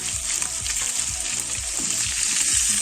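Salted prawns fry in a pan with a continuous bright sizzle and crackle, close and steady, with soft stirring and shifting sounds underneath.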